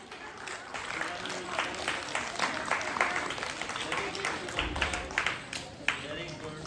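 Crowd clapping at a school Diwali and sports week prize ceremony as winners are named, a sustained wash of applause with voices mixed in and a few sharper claps near the end.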